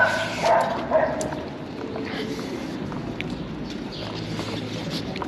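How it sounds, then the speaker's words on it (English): A large dog barks loudly and heartily a few times near the start along a walking route, the barks standing out over steady outdoor background noise before fading into ambient hum. "There's a very loud dog."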